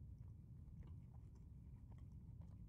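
Someone chews a Taco Bell Crunchwrap, a soft wrap with a slightly crunchy filling, close up: continuous soft mastication with faint crackles over a steady low background rumble, no voices.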